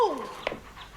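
A dog gives a short, high whimper that slides downward, followed by a faint yip; close and quiet, with no talking over it.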